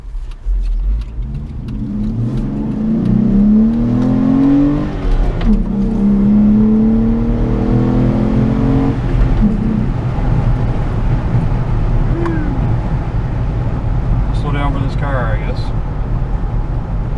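A Jeep JK engine revs and accelerates during a test drive, rising through the gears with a loud, steady mid-pitched drone and whir up close, while someone talks over it.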